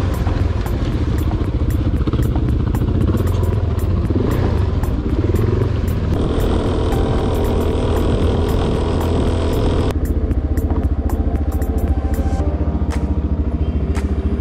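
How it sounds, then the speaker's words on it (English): A motorcycle engine runs steadily close by somewhere in Baja, a loud continuous rumble with a humming tone that shifts pitch a couple of times as the revs change. "I think the bike will run and start now"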